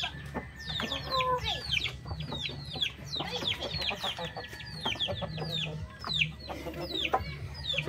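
Shamo giant chickens cluck repeatedly in a busy, overlapping chorus of short calls, close by, with a few louder squawks and steady low background noise.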